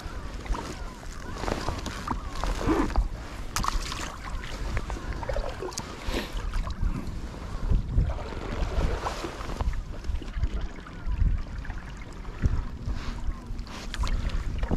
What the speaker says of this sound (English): Ooh, the wind is picking.